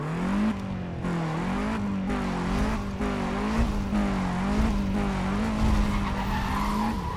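A car in the racing game Need For Speed: World drives and skids, its engine droning with wavering pitch under long tire squeals, with music and game effects mixed in, continuous and close.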